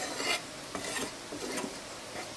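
Hair-dye ingredients are dry-roasted in a pan, stirred with repeated gritty scraping strokes over a faint, dry sizzle, close and fairly loud.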